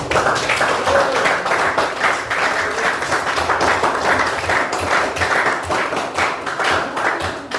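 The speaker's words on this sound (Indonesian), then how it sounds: "Oke, jika tidak ada, kita beri tepuk tangan." Classmates clap together after student presentations in a classroom coaching session, a steady dense patter of hands lasting several seconds at close range with no talking over it.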